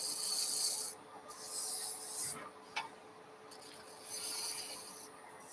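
A gouge cuts wood on a lathe while a lighthouse salt mill is turned, giving a light, hissing shave that comes in sustained passes separated by quieter gaps, with one sharp tick midway and no talking.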